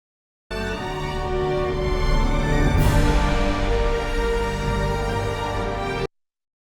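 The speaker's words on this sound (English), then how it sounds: "this is our music, which would sound a bit like this" Music track for a Citroen alien advert: a dense, sustained layered score with rich harmonic tones, swelling slightly and then holding steady for several seconds before stopping abruptly.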